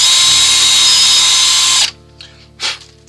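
Drill press boring a 25mm hole into a wooden tulip clock blank, a loud high steady whine for about two seconds that cuts off abruptly, followed by a couple of soft clunks.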